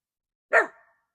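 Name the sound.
golden retriever barking at external threats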